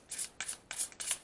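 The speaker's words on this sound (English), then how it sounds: "Let's do one more shuffle" Tarot deck being shuffled by hand, four quick papery riffling bursts in an even rhythm, close and fairly soft, with no talk.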